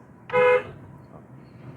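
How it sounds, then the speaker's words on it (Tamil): A single short car horn honk, loud and steady for about a quarter second, followed by low road rumble. "ஹார்ன் அடி"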